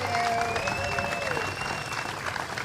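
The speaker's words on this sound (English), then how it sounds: "Another round of applause for our gold medalists." Crowd applauding gold medalists at the 2023 US Open Pickleball Championships, a sustained wash of clapping with some whistling tones on top and a faint murmur of voices, moderately loud and steady.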